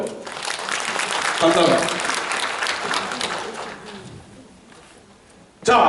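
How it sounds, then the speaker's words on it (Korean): An audience at a lecture for academy directors bursts into applause, sustained clapping under the speaker's voice that fades out over several seconds before a burst of speech. "박수 한번 주십시오"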